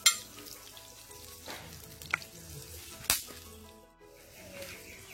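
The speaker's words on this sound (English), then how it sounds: "the pot hot, so I'm adding 2 cloves of garlic, some pimento seeds" Two cloves of garlic and pimento seeds fry in hot oil in a pot, giving a steady close sizzle with a few sharp pops and stirring clatters.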